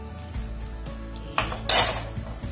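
A spoon stirs an annatto mixture in a metal cooking pot while making pork kare-kare, giving a few sharp clanks and scrapes against the pot, loudest near the middle, with no talking.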